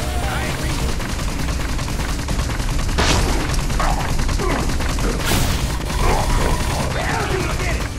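Gunshots in Destroy All Humans! 2: Reprobed, a dense, loud barrage of blasts and booms that fills the whole stretch with a couple of sharper bursts standing out, while a voice talks over it.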